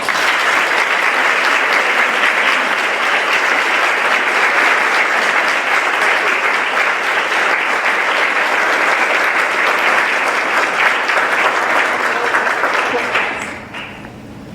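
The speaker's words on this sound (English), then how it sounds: "Please give them a round of applause" Luncheon audience at a women's business council awards event gives honorees a long, loud, dense applause from a large crowd, sustained evenly before fading off near the end with some chatter mixed in.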